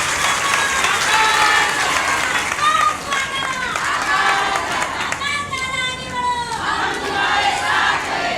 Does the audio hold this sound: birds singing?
no